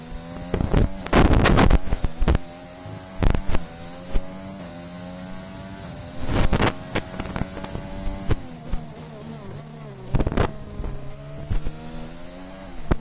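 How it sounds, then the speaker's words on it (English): Formula 3 race cars in a racing game, engines droning and pounding up a long straight with a layered whine of several cars at once, shifting pitch, with bursts of louder revving passes, no talking. "As NJ Devil comes round onto this big long straight here, pounding up the straight."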